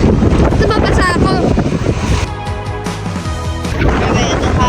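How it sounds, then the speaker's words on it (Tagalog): Strong wind buffeting the microphone on a Boracay beach, loud rumbling gusts rising and easing, with surf faintly underneath and someone talking and exclaiming over it. "Grabe, ito hangin is very hangin."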